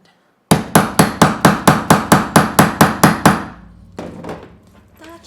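A hammer sets a metal rivet on a sewn double zip bag, striking about eleven sharp, evenly spaced blows close up. The last few lighter taps follow after a short pause.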